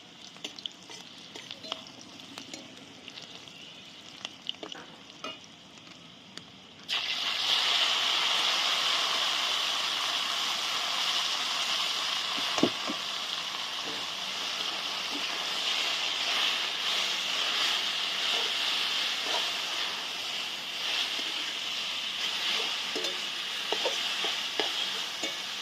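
Water spinach (kalmi shak) greens hit a hot pan and sizzle loudly, a steady bright hiss starting a few seconds in after quieter stirring, continuing with occasional clinks of stirring.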